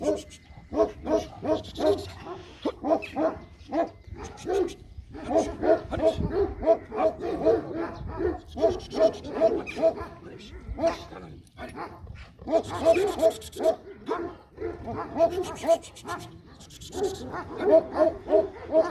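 A big Kangal dog barks over and over in deep, loud bursts, with short pauses and some quieter yips between the barks.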